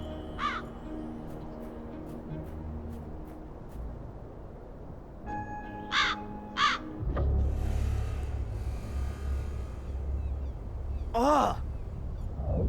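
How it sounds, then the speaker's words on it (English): Raven cawing from a piece of flotsam in a river in the video game Black Mirror 3, several harsh caws spread across the scene over ambient game music and a low rumbling water bed, fairly close and clear. "It's just a piece of flotsam with a raven sitting on it."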